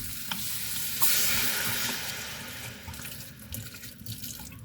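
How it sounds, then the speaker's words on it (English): A cup of wine poured into a hot soup pot to deglaze it, giving a steady loud sizzle and bubbling hiss with stirring scrapes, close and continuous. "Deglaze it. I'll turn the fire up with about a cup of wine."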